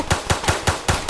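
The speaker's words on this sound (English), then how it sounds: "He's shooting the nigga outside." Gunfire outside a house in the Roblox game Tha Bronx 2: six sharp, evenly spaced gunshots in quick succession, loud and close, with no talking over them.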